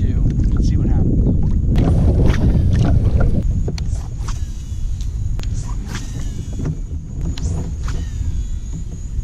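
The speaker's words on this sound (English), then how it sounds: "It's windy" Strong wind buffets the microphone with a heavy rumble, easing slightly midway, while a person talks intermittently beneath it.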